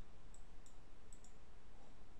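A computer mouse clicks four times, very faint and crisp, in irregular pairs over quiet background hiss.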